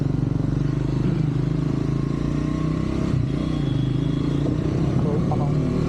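Motorcycle engine running steadily as a ride begins near Gachibowli, a continuous low idle-to-cruise drone with some clatter, close and loud throughout.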